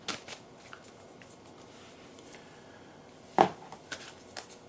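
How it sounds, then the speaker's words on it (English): Tarot cards are shuffled quietly and close up, with soft riffles and a sharper slap of cards midway, set against a low, quiet room tone. "I'm going to shuffle and I'm going to throw."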